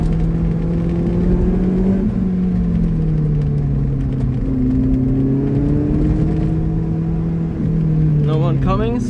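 A Lotus Elise engine hums steadily on a mountain drive, a close, continuous drone with slowly shifting pitch as the car holds speed, and a voice breaks in briefly at the end.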